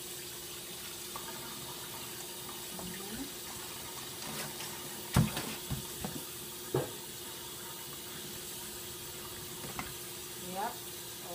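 Running tap water pours steadily over sorrel being rinsed for a Jamaican sorrel drink, a soft constant hiss with occasional clatters and splashes from hands moving in the sink.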